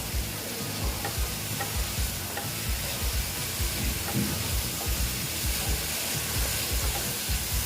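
Masala with Kashmiri red chili powder frying in a pan for a Tangra fish curry, a constant dense sizzle with repeated scraping stir strokes close by, no voices.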